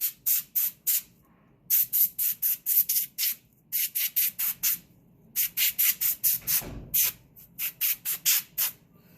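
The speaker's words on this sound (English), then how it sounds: "Maybe I'll give it a couple sprays" A handheld spray bottle misting a dusty surface during cleaning, giving loud, crisp hissing bursts in quick runs of four to six pumps separated by short pauses, close and dry with no talking.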